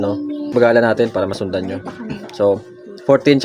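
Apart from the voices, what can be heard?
No distinct noise like a dog, phone or traffic.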